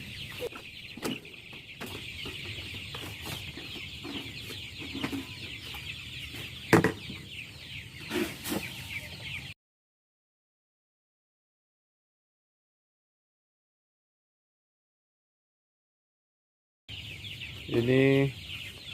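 Joper chickens cluck in a coop during morning feeding, with steady clucking and scattered calls over a continuous farmyard din, a gap of silence, then a louder close squawk near the end.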